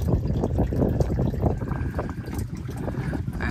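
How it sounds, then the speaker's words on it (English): A steady stream of water runs into a boat through its hoses as a close, continuous gurgling trickle, with wind buffeting and boat rumble mixed in underneath. "we have a pretty steady stream of water coming into the boat"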